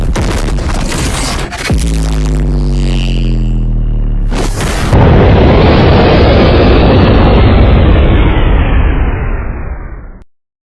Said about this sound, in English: Poop explosion!